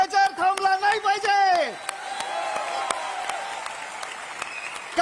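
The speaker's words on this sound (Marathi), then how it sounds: "टाळ्यांचा गजर थांबला नाही पाहिजे." Audience applause at a live public event run by Paani Foundation, a steady wash of many hands clapping that follows a loud amplified voice shouting over the first couple of seconds.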